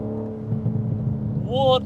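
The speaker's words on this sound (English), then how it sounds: "Listen to those burbles" A 2024 BMW M4 Competition with M Performance parts gives a low, rumbling exhaust burble from outside the car. A higher rising tone and a sharp pop come near the end.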